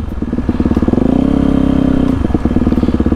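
A small motorcycle ridden by a young child strains in sand, its engine revving up in a loud rising surge and then dropping back to a rough, choppy putter, close by with no talk.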